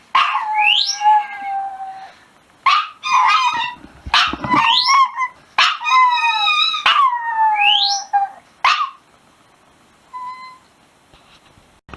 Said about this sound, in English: the dog decided to sing a duet